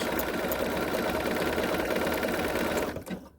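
Sewing machine stitching back and forth on a crossbody bag, a fast steady mechanical whir held close for about three seconds before it stops abruptly.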